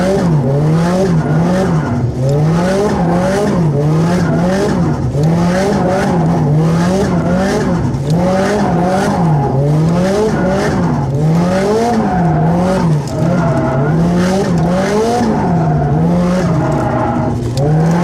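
A drifting car squeals its tires for a long stretch, rubber screech rising and falling in repeated waves over a loud revving engine that holds steady throughout, close and continuous with no talking.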